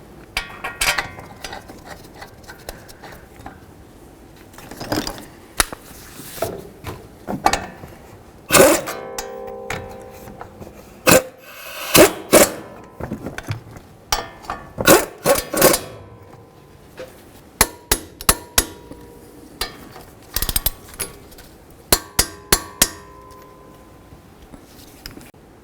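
Wrench work on the front brake caliper bracket mounting bolts of a 2009-2020 Dodge Journey: a close, uneven run of sharp metallic clicks and clanks with short pauses between bursts and no talking.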